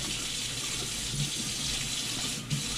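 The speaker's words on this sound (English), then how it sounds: "Put a little bit of hot water." Hot water runs steadily from a tap into a sink, poured for a borax cleaning mix to wash a child's winter jacket in hard water; a continuous close splashing rush with no talking.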